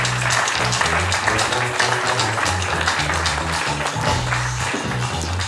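Audience applause at the opening of a France 2030 innovation roadmap event for the Secrétariat général pour l'investissement, a dense steady wash of clapping with low music-like tones running beneath throughout.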